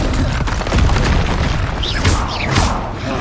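Bombarda blasting spell in Hogwarts Legacy, a loud booming explosion with heavy low rumble, followed by sharp crackling bursts and whizzing debris-like zips late in the moment, dense game effects throughout.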